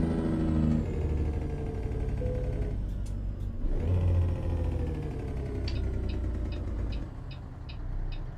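A modded Detroit Diesel 60 truck engine in American Truck Simulator, revving and droning with rising and falling harmonic whine through gear changes, later a lighter idle with a faint repeating mechanical ticking, no speech.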